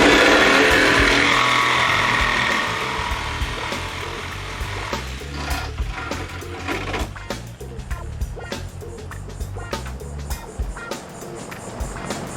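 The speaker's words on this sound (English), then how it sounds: "you gotta tip the entire saw that way" A power saw cuts into the steel cargo floor of a 1967 VW bus. A loud, harsh grinding whine opens up close by and fades over the first few seconds, then gives way to scattered knocks and rattles.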